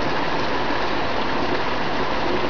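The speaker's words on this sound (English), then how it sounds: "All that dirt came and the rain" Steady, dense rainfall pours down during a summer thunderstorm, a close, continuous hiss of heavy drops with no pauses and no voices over it.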